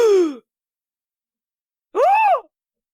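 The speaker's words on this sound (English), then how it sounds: "here's some different gasps for you." Two separate exaggerated vocal gasps performed for a voiceover, one short and falling, the other a rising-then-falling gasp, loud and close with silence between.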